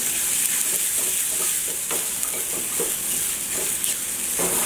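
Onion and garlic frying in mustard oil, a steady close sizzle and crackle with occasional stirring scrapes, continuous and fairly loud with no talking.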